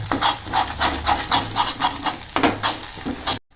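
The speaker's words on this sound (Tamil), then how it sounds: "இப்போ நல்லா மிக்ஸ் பண்ணிக்கங்க" Gongura chutney is stirred in a pan, a spoon scraping and rubbing in quick repeated strokes with a soft sizzle underneath, close and fairly loud, ending abruptly.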